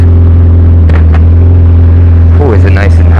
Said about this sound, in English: I took the slip-on off, so it's just full exhaust.